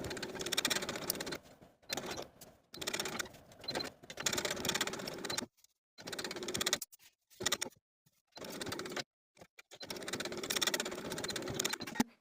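A sewing machine stitches binding onto a blouse neckline in several bursts of rapid mechanical whirring separated by short pauses, close and clear with no talking.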